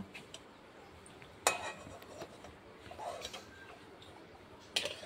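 Fried pointed gourd and shrimp koftas lifted out of a frying pan, with sharp metallic clinks of a utensil against the pan at scattered moments over soft background sizzle, close and fairly quiet.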